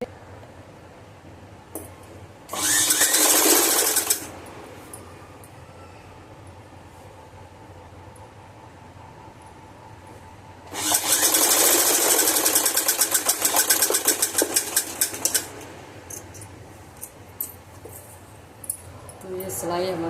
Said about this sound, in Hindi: ऐसी ही सिलाई हम पूरी पट्टी पर देते जाएंगे।